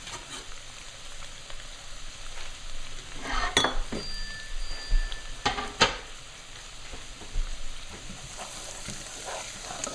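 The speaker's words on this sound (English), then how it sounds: "The onion is sauteing." Onion softening in a pan, with parsley being added, gives a steady soft sizzle with a few brief clinks and utensil scrapes midway; no one talks.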